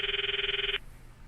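A phone rings unanswered in the visual novel Steins;Gate, giving a trilling electronic ring that pulses rapidly for under a second and then cuts off, leaving faint room tone.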